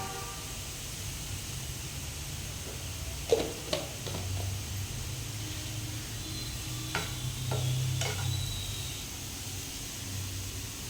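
Momo filling of mixed ingredients fries in a pan with salt and pepper while it is stirred now and then, giving a steady low sizzle with a few sharp scrapes and clicks of the spoon and no talking.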